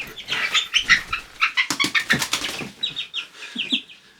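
A feisty crossbreed cockerel flapping its wings in bursts of fluttering beats, with a few clucks and squawks mixed in on a homestead, fairly close.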